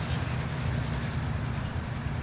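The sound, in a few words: train passing in a video game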